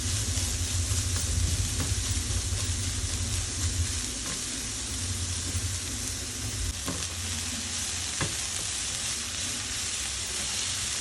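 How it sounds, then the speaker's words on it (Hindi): Thinly sliced carrots frying in a pan, one cup's worth, while being stirred, giving a steady close sizzle and hiss with occasional scrape and clink of the spoon against the pan. "अब इसके अंदर 1 कप गाजर है, इसको मैंने बारीक स्लाइस में काट लिया है और अब मैं इसको फ्राई करूँगी"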